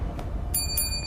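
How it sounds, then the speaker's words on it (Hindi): Two bright metallic strikes of a temple bell ring out about a quarter second apart, their tones sustaining over a low, steady background rumble. "घंटी की आवाज बार बार गूंज रही थी,"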